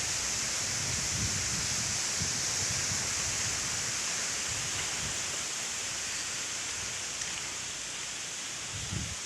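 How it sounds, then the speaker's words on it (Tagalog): Strong wind in Typhoon Kristine makes a constant broad roaring wash, like heavy rain or rushing water, steady and fairly faint throughout, with no voices. "Lakas ng hangin, no?"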